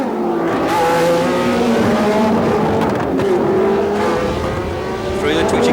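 Formula One cars from the 1976 US Grand Prix West on the Long Beach street circuit scream past at high revs with rising and falling engine pitch, loud and close, under a commentator's talk.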